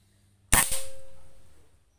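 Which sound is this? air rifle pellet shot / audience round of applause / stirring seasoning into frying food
air rifle pellet shot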